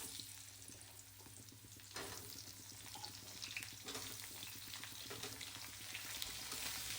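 Potato and papaya pieces frying in oil for a koi fish curry, a soft steady sizzle with a sudden louder burst of hissing as the pieces go in, plus rapid crackles and occasional utensil clinks.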